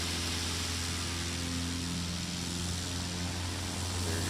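A STOL airplane taking off at Music City Executive Airport, its propeller engine droning steadily and loudly throughout with a constant hum and broadband roar, no voices.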